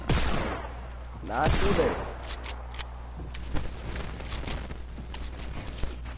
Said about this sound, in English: my deagle shots are not working out today